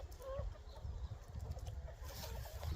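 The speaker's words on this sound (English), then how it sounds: "Happy chickens." Chickens cluck intermittently around a farm coop, soft and slightly distant over steady low-frequency background rumble, with no talking.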